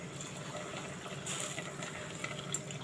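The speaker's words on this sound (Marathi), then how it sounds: "आता याच्यामध्ये आपल्याला पाणी घालायचं आहे" Water gushes steadily into rice and masala in a pressure cooker for matar soya pulao, a soft continuous pour at low volume with no talking.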